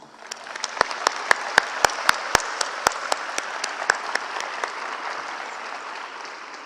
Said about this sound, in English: I'd like you guys to give them some applause.